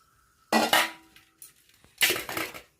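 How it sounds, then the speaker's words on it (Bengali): Soaked soybeans are poured onto a perforated plate in two clattering bursts, each a rush of wet beans rattling against metal, with a few light clinks in the pause between them. "এই পর্যায়ে আমি একটা ফুটো থালার মধ্যে ঢেলে দিলাম।"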